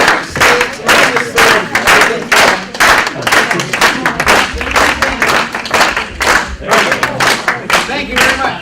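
A meeting audience claps loudly and steadily at close range, a dense continuous patter of many hands with some thumps, and voices mixed in throughout.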